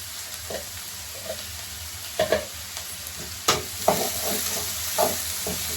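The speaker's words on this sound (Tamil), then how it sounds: "இந்த வெங்காயம்லாம் சீக்கிரம் வதங்கிறதுக்கு கொஞ்சம் கல் உப்பு போட்டுக்கலாம்." Onions sautéing with rock salt in a pan, a steady low sizzle broken by repeated clacking scrapes of a spoon stirring against the pan at uneven intervals.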